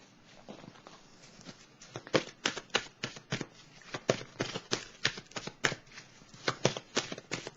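Oracle cards are shuffled in quick, uneven bursts of soft riffling and slapping, close and fairly quiet, with no talking.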